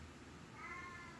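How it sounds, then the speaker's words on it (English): A house cat gives one short, faint meow partway through, heard close but low against a steady background hum. "sorry, that's my cat."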